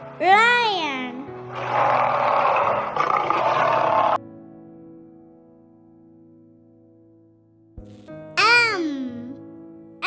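A lion roars in a children's phonics song, giving a rough, sustained roar of about two and a half seconds between sung lines, loud and close.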